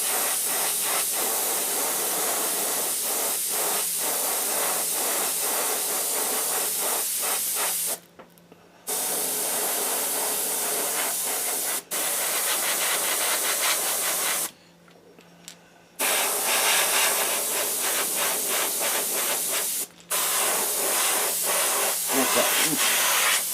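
An airbrush sprays paint for a bluegill pattern, fed from a 33-gallon air compressor tank with the compressor switched off: a loud, close, continuous hiss broken by a few short pauses where the spray stops.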